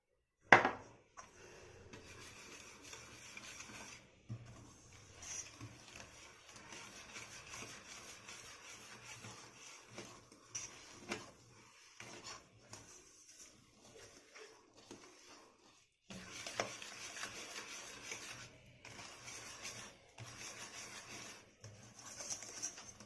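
Flour is folded into wet cake batter with soft, irregular scraping and dull knocks of a utensil against a bowl, faint and close, with a few quiet pauses and a sharper tap at the very start.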